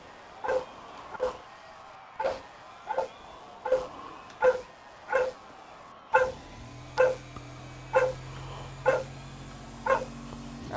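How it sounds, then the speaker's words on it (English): A dog barks repeatedly in a steady rhythm, about a dozen sharp, loud barks spaced roughly a second apart, heard during a racing broadcast with a steady engine-like hum joining partway through. "That's a lot of barking coming from your dog."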